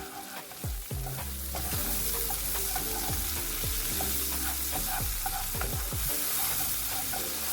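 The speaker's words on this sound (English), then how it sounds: "So what we're doing here is called a roux, and this will help the sauce to thicken up a bit." Flour cooking into a roux in a pan for baked mac and cheese, with a continuous close sizzle and regular scraping strokes of a utensil against the pan, no voices.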